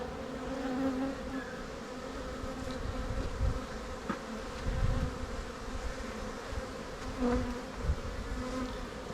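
Honey bees buzz around an opened hive during a first inspection after winter in March, a dense steady drone with individual bees swelling nearer now and then, faint and without voices.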